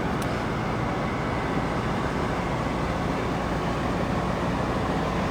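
A 2003 Monaco Dynasty 42-foot Princess motorhome sits with its engine running, giving a steady, even broadband rumble throughout with no changes in pitch or level.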